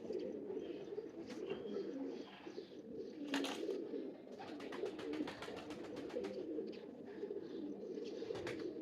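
A large female pigeon of a rare show breed coos in soft, repeated throaty calls close by, with chirps and faint flutters around it and no speech.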